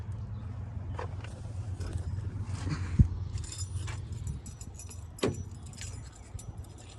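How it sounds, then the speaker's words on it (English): Keys jangle repeatedly while a Ford Ranger door is shut, with clinking metal over a low background rumble and a sharp thump near the middle, close to the listener, with no talking. "So I'm just going to shut this door with my keys."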